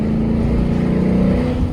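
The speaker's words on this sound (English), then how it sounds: "Thought I'd open it up real quick in third so you guys can hear that Borla attack," A Ford Mustang with a Borla ATAK active exhaust pulls hard in third gear, a loud, steady, deep droning exhaust note held without a pause.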